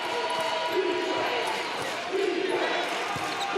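A crowd at a women's college basketball game between South Carolina and Auburn fills the arena with a continuous roar. Sneaker squeaks and ball bounces come through underneath, and an announcer talks over it.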